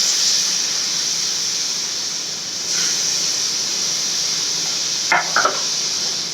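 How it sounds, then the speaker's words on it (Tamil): Tamarind water goes into a simmering fenugreek leaf kara kulambu, with a constant steamy hiss and bubbling from the pot and a brief splashy pour and stir near the end. "புளி ஊற்றணும்."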